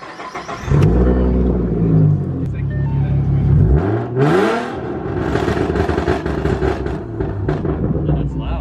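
A Mustang with a swapped 3.7 V6 and an M122 supercharger revs hard at close range, its engine note rising and falling before a run of sharp exhaust pops and crackles, with people talking nearby.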